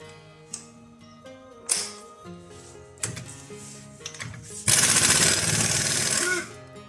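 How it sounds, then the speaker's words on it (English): A pneumatic impact gun fitted with a 27mm socket hammers a Volkswagen CV axle bolt loose in a workshop: a few short rattling bursts, then one loud, sustained rapid-fire hammering run of about two seconds, close up over a steady background hum. "I'm going to put it on my impact gun because this way the bolt will come out very easy"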